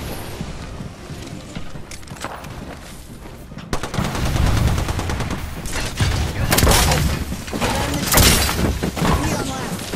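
Dense rapid gunfire rattles and cracks in the Apex Legends video game, sustained bursts of shots with impacts and crashes, loud and close, building after a quieter opening stretch.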